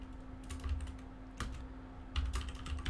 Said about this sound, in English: Then going to type start dedup job dash volume